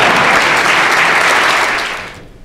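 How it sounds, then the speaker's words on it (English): A school chapel congregation claps steadily in a dense, rattling wash of applause that holds for about two seconds, then quickly thins and fades out. "Let's give us a round of applause."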